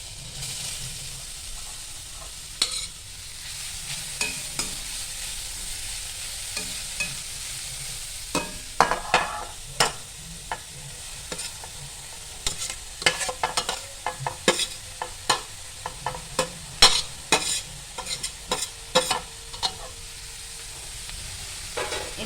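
Grated carrot stirred and sautéed in ghee for carrot halwa, a soft steady sizzle broken by frequent sharp scraping clicks of the spoon against the pan, close and continuous with no talking.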